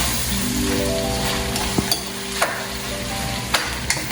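Pork adobo sizzles steadily in a pan while a utensil stirs it, with a few sharp clinks of metal against the pan and no talking.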